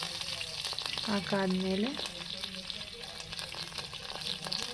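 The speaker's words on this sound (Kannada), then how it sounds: "ಒಂದು ಸ್ವಲ್ಪ ಸಾಸಿವೆ ಹಾಕಿ, ಸಾಸಿವೆ ಅದ್ರ ಮೇಲೆ 2 ಕರಿಬೇವು" Mustard seeds and a couple of curry leaves frying in hot oil in a home kitchen for brinjal gojju, a steady close sizzle and crackle throughout, with a brief spoken word over it.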